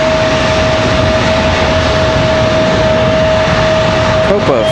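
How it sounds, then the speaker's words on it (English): An Airbus A319 jet takes off at Raleigh-Durham International Airport, its engines producing a loud, continuous roar with a steady whine running through it. "That A319 is wheels up."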